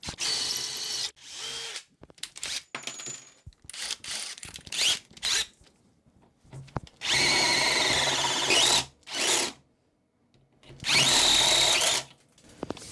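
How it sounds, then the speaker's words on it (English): A power drill fitted with a step drill bores holes in a small link for a belt tensioning system, running in repeated bursts of grinding whine separated by short pauses and handling clicks. "I'm just gonna drill these holes and use a file to round off these edges."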